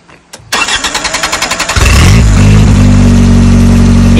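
A 1979 Honda Prelude from a barn find cranks with a rapid rhythmic starter whir for about a second and a half, then fires and catches into a loud, steady running roar, recorded close.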